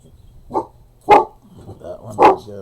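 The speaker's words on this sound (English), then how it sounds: "as you hear my daughter's dog" Rufus, a pet dog, barks indoors three times in close succession, loud and near, with brief quiet gaps between barks.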